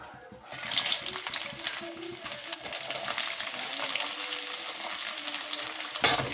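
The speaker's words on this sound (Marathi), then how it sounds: "तेल तापलेलं आहे आपण आता त्याच्यामध्ये लसूण टाकून घेऊया" Whole unpeeled garlic cloves dropped into hot oil: a quiet start, then a sudden, steady bright sizzle and crackle that holds throughout, with occasional soft clinks of stirring.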